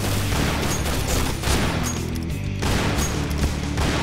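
Rapid gunfire from a pirate-themed gun in the shooter game Point Blank, played on an Indonesian server, comes as a dense, loud, continuous volley of shots with occasional heavier blasts.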